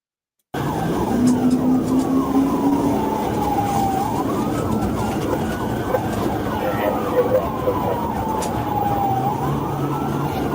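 A wailing ambulance siren sweeps up and down repeatedly, mixed with traffic noise and a lower horn-like tone, fairly close and loud.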